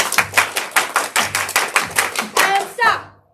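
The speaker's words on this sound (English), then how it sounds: "And everybody clap your hands." Hands clap in a quick steady rhythm, about a dozen sharp claps close by, the last few blending with a short spoken word.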